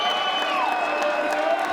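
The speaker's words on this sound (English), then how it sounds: "all of a sudden, this crowd reignited here in Greenville" A college baseball crowd in Greenville at a UNCW vs ECU game cheers and whoops in a sustained, distant roar with a shrill whistle rising above it.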